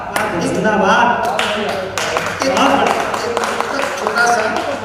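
An audience clapping at a Hindi poetry recital, a dense patter of hand claps rising and falling in waves, with a voice speaking over it.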